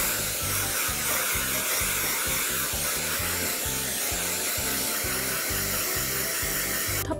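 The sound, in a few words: Dyson Airwrap blowing air, drying hair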